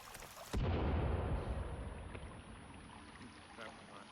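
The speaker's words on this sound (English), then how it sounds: "I'm throwing my grenade" Grenade exploding in the survival game Sons of the Forest, a sudden loud boom followed by a long rumbling decay that fades over a few seconds.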